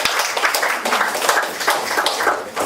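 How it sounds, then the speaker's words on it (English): A small meeting audience at a Toastmasters club claps to welcome the chair, lively uneven applause from a modest group with individual hand claps audible, fairly close, and no talking. "please help me to welcome Toastmaster Chair for a please big applause"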